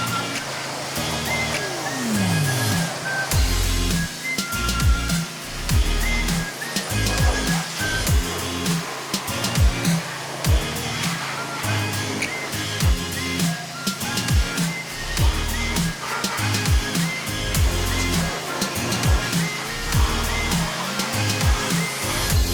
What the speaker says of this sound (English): And now Chase is going to wash this sucker.